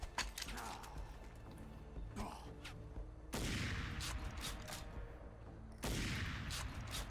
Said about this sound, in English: Shall we try a sniper rifle?